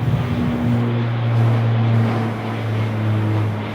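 QantasLink turboprop airliner departing Sydney Airport and passing straight overhead, a loud steady propeller drone with a low tonal hum that swells and holds for several seconds.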